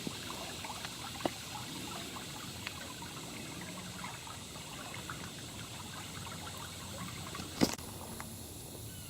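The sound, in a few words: bayou water flowing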